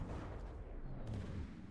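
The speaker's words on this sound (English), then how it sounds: "Yeah, there goes a shell." A ship's gun fires a shell in a naval battle video game, a deep, rumbling low boom that fills the short moment at moderate loudness with no talk.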